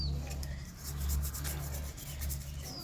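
Brake parts being scrubbed clean during a brake pad change, a steady close rasping rub with repeated back-and-forth strokes over a low background hum, no speech.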